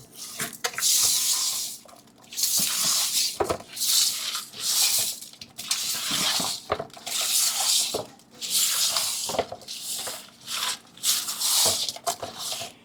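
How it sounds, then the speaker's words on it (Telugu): A spoon stirs oil through rice in a cooking pot for bagara rice, giving repeated scraping and clinking strokes in steady bursts, close and fairly loud, with no voices. "ఇప్పుడు చక్కగా కలుపుకుందాం"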